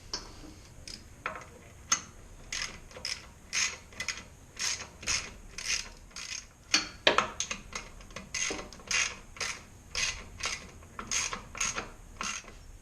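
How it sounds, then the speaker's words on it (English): Ratchet with a 10mm socket tightening the side screws on a 25-inch Nilight LED light bar, a steady run of quick clicking strokes close by, repeating in short bursts with no talk. "I'm going to go ahead and use a 10mm socket and tighten down the side screws."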